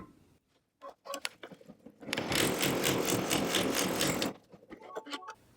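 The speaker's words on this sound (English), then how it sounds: "So I'm going to repeat the placement guide, which will sew a running stitch right on top of where we had before." An embroidery machine sews a running stitch over an appliqué placement line: a loud, fast rattling stitch run lasting about two seconds, framed by shorter stop-start bursts of stitching before and after.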